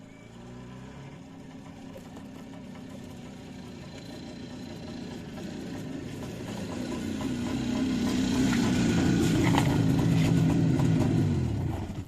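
A car engine idles and then swells closer as the vehicle pulls up to a village gate on its return from the market, a steady mid-pitched hum building louder toward the end.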